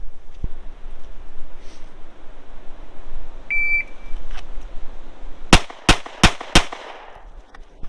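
A handgun fires during a shot-timer drill at a shooting range. A thin electronic beep is followed by four sharp, loud shots in quick succession, set against steady outdoor background noise.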